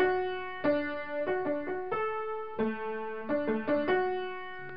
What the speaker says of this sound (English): let me play that whole melody in the right hand so you get an idea of what that sounds like